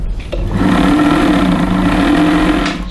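A bargain Elna Special sewing machine runs fast and steady, its motor whirring in a continuous hum with a rapid needle chatter. It stays loud and close for nearly three seconds with no talking.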